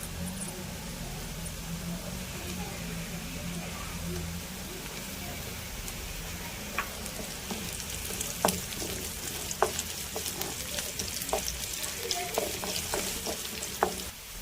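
Sliced onions and green chilies fry in a pan with a soft, continuous sizzle, joined by sharper scraping clicks of stirring in the second half, all fairly faint.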